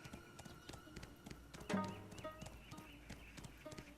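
A horse's hooves clip-clop in the video game Tale of the Changui as it walks toward a barn, a quiet, uneven run of taps with one louder thud and a faint whinny-like tone midway.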